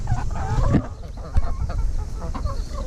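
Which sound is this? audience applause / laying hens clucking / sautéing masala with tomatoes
laying hens clucking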